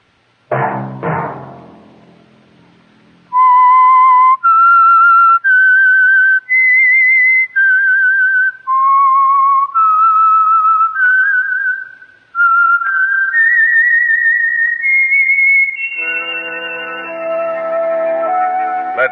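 A clear, loud whistled melody of sustained notes stepping up and down, the theme of the radio mystery show The Whistler, preceded by a couple of soft knocks and ending as a chord swells in.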